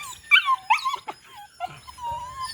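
Several dogs and a puppy whimper and yip excitedly in a run of high, wavering cries, close and fairly loud, with a few shorter yelps and a softer whine near the end.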